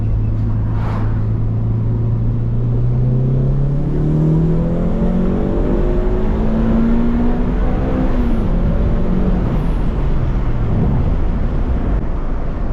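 An AWD Honda del Sol engine revs up through several rising gear pulls, whirring strongly and loudly close by, with a turbo-like whine over the roar.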